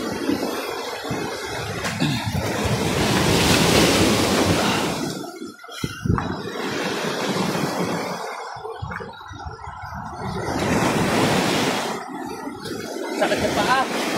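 Heavy ocean waves surge and crash on a Cavite shore in repeated loud washes with lulls between, wind buffeting the microphone and voices speaking over the roar.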